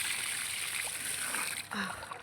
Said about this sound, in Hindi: देखो पानी का कितना प्रेशर है देखो